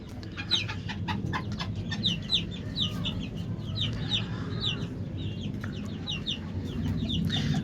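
Several chickens, including young İspenç pullets, cluck and chatter in short, repeated calls over a steady background murmur, close by and fairly busy throughout.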